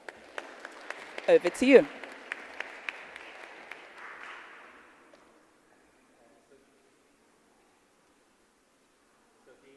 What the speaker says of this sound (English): May we please welcome our moderator and panel with a round of applause.